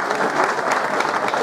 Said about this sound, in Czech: A ten potlesk je pro tebe